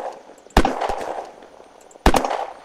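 Two sharp gunshots crack out in the Unturned shooter game, loud and close, spaced about a second and a half apart, each trailing off into a short echoing ring with a fainter pop between them.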